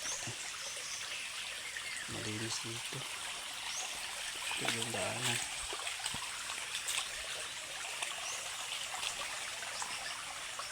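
Steady rushing of flowing stream water fills the whole stretch, with a person speaking briefly partway through.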